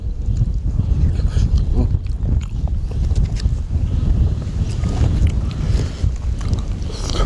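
Steady, strong wind buffeting outdoors, a constant rough roar with gusty rumbling, loud and close throughout, with no voices.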